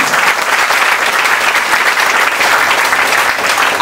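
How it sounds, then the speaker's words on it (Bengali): An audience claps at a business building seminar in Bagula, dense, sustained applause from a crowd that stays loud and even throughout. "এইটুখানি হাততালি"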